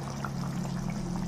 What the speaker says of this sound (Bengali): এখন দই দিয়ে দিচ্ছি